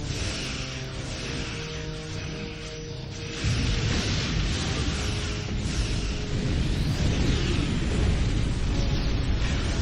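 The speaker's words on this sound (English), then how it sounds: "Recommend torpedo launch now." A torpedo launch and a heavy explosion in the Star Trek Online space game build into a loud, sustained roar of booming rumble and crackle with no pauses.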